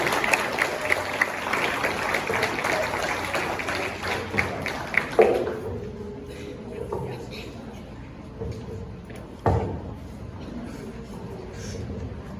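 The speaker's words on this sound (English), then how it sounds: "You can give the girls one round of applause." Audience applause fills a girls' high school sports end-of-season banquet, a steady patter of many hands for about five seconds before it fades into quieter room noise with a voice speaking.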